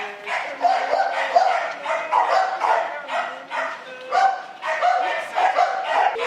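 A large dog at a breeding kennel barks repeatedly in loud, close, rhythmic bursts, with some yelping between barks and no talking over it.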